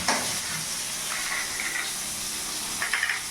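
Eggplant pieces frying in oil over a medium gas flame, giving a steady soft sizzle and hiss with no voices over it.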